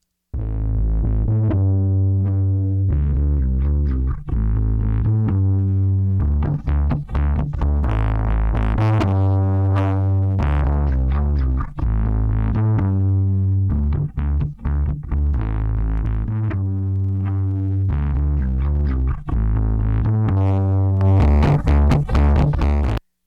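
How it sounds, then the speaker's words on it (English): A bass line runs through the Thickify plugin as its drive knob is turned up, adding heavier distortion and gritty upper harmonics to a loud, sustained, looping bass riff with no talking. "The drive is adding even more distortion"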